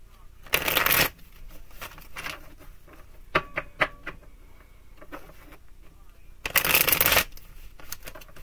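Tarot cards are shuffled in two quick riffling bursts separated by a pause, with soft taps and handling clicks of the deck in between, close and clear.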